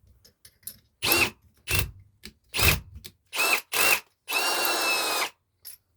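A Parkside Performance cordless impact drill whirs in slow gear in several short bursts, then one longer run, with quiet pauses between each trigger pull.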